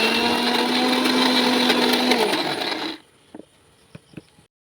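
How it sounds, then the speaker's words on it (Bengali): Electric mixer grinder whirring steadily as it grinds Malabar spinach leaves into paste, loud and close, then cutting off abruptly and followed by a few faint clicks and knocks. "এখন মিক্সিতে দিয়ে দিচ্ছি"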